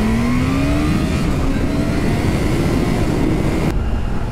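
A 2022 Kawasaki H2 SX motorcycle engine revs steadily up toward the top of its range, a loud continuous roar with a rising tone that cuts off abruptly near the end.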